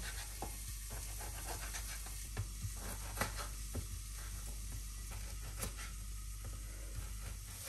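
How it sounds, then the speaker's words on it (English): Garlic, onion and carrots fry quietly in a pan for a sausage casserole, a faint continuous sizzle with soft scrapes and taps of stirring scattered throughout, heard close with no talking. "I will stir it again and leave to cook further for a few more minutes"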